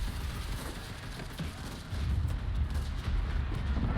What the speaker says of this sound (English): Oh, we got hit by artillery.